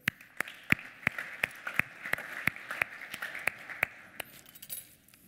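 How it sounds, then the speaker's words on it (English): A lone pair of hands claps in a slow, steady rhythm at a finance technology event, about a dozen sharp, sparse claps spaced evenly and fairly faint, with no crowd around them. "Please give an applause for Christoph Rieche"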